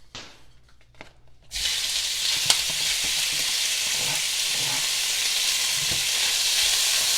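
Small pieces of pork hit olive oil in a very hot pan and burst into a loud, steady sizzle that holds without letup, preceded by a few quiet clinks and bumps; no one speaks.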